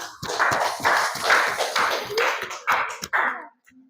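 A classroom of students claps together in several bursts of rhythmic, loud, close applause that stops abruptly near the end, leaving near silence.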